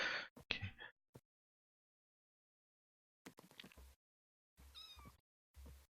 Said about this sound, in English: I would love to have a certain kind of cat. And wouldn't you know it, you just came up.